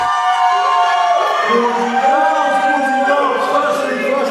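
A loud wrestling event crowd cheers and shouts, a dense roar of many voices with rising, wavering yells that stays strong and close throughout.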